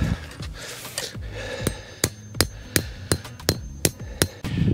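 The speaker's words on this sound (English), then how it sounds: "then we'll hammer it the rest of the way" A hammer drives a solar pathway light stake into the ground outdoors, about ten sharp, close blows coming roughly every third of a second after some softer fumbling sounds.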